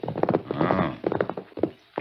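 A radio western drama effect of the horse Silver, with close hoof clops and snorting horse sounds in a short, uneven burst.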